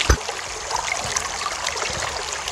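River water trickles and burbles steadily while water bottles are filled at the bank, a close, continuous wash with small splashes and no talking.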